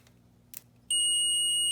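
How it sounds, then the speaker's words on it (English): A cheap digital multimeter in ohm-meter continuity mode gives a sudden, loud, steady high-pitched electronic beep that starts abruptly and holds without a break, after a brief faint click. "we'll show off the beep there. That's a pretty good sounding beep"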